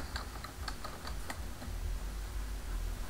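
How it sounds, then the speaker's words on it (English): Keys clatter on a computer keyboard in a quick, uneven burst of close clicks, typing a search on a Windows 8 PC, then trailing off into a low hum. "I'm going to type snipping tool"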